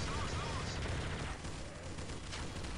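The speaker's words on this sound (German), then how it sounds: "Auf sie drauf schießen!" Dense, continuous gunfire from the video game Counter-Strike: Source: rapid overlapping shots that fill the whole stretch at a steady, loud level.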